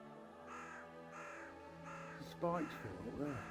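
Birds around an old church give a repeated series of harsh, cawing calls at a steady pace, sounding fairly close, with a steady musical drone and someone speaking over them.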